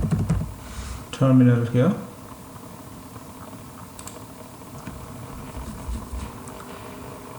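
Quick burst of computer keyboard typing into a terminal, about a second of close, rapid key clatter, with someone talking before and after.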